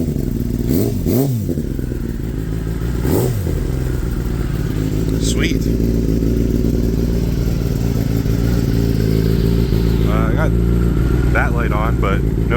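A Kawasaki ZX10-R motorcycle engine idles loudly and steadily throughout, with a couple of brief revs near the start and faint higher chirps later.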